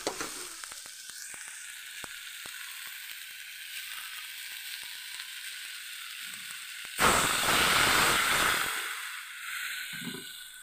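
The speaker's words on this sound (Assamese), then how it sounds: "আৰু এতিয়া ইয়াতে পানী দি দিম" Water poured into a hot pan while cooking Assamese lai xaak khar, the quiet steady sizzle of the greens bursting into a loud, hissing surge of steam that fades after a couple of seconds, with faint utensil clinks.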